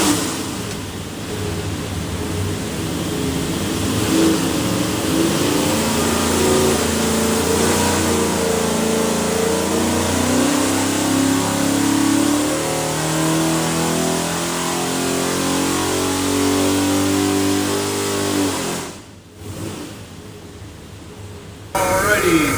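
A 582ci big-block Chevy V8 built for an airboat roars through a dyno pull, its loud engine note climbing steadily in pitch before cutting off abruptly near the end, with voices faintly present.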